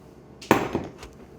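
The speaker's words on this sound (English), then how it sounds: "We made a bearing puller out of that socket and then hit it with a hammer from this side." A hammer strikes a socket used as a makeshift bearing puller during wheel work on a motorcycle: one sharp metallic hit, then a lighter second tap, close up and otherwise quiet.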